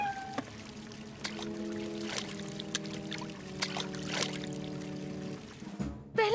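Running water pouring and trickling in a Fireman Sam cartoon scene, a continuous gushing flow with sustained tonal hums and scattered sharp splashy accents, fairly close and heard without talk.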